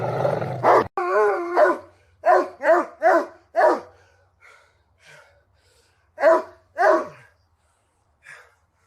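A guard dog barks in short, loud bursts close by, a fast run of several barks followed by a pause and two more, with a faint final yelp.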